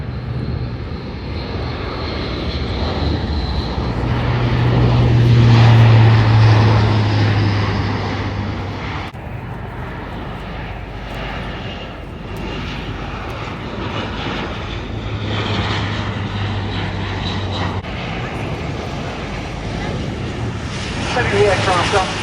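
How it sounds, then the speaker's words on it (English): Four-engine turboprop aircraft with 1,100 shaft horsepower engines flying at an air show, a loud sustained propeller and engine roar that swells and holds, with an announcer talking over it. "Setting the aircraft up to a steep descent"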